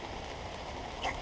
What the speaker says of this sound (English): It's pouring out.